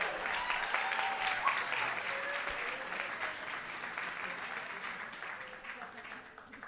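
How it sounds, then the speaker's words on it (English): Audience applause for artists at a full moon ceremony, a fairly soft, distant wash of clapping that runs throughout and slowly fades, with voices murmuring faintly underneath. "Let's give them a round of applause."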